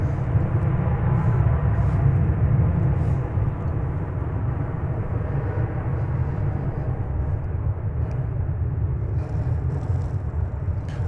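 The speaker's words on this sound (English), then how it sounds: "Off to Vancouver goes American Airlines Flight 1415" American Airlines Flight 1415 taking off from DFW Airport, a heavy, steady low jet-engine roar held throughout at a distance, with faint intermittent higher hiss above it and no clear speech.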